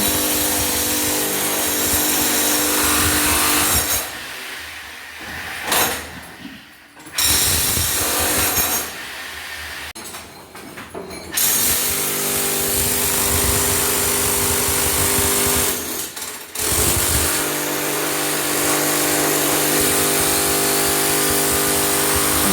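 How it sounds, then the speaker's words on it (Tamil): A machine breaks up a house's stone doorstep, a loud, harsh grinding and hammering roar that cuts out briefly several times and then starts again, near and dominant, with no talk. "இந்த மிஷினை போட்டு உடைக்கும் போது இப்போ கேளுங்க அதை"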